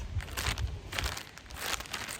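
Small plastic bag holding spare parts for a flagship fishing reel being handled, giving a close, brittle crinkling that comes in several quick bursts over a couple of seconds.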